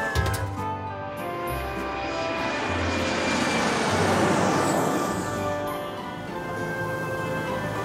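A cartoon airplane takes off with its engine droning as it builds to a loud, rushing peak before easing away.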